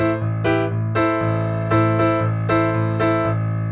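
Piano left hand playing steady repeated A octaves, firm, even strikes in a regular rhythm under sustained upper chords, close and clear.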